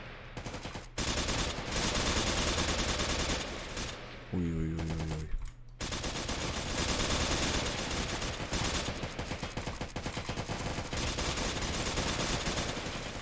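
Gunfire aimed at a bulletproof vehicle in an MTA roleplay game, long loud bursts of rapid automatic shots nearly nonstop, with a short break and a rising tonal sound partway through, under and between Turkish voices.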